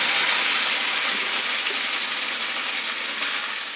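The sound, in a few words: shrimp poured into hot oil in a kadai, sizzling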